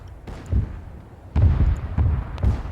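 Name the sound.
ship magazine explosions in the video game Arma 3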